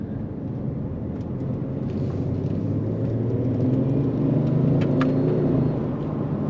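Audi S4 TDI diesel engine pulling steadily under acceleration, a low, smooth rumble rising gradually in pitch and loudness, heard from inside the car with no talking.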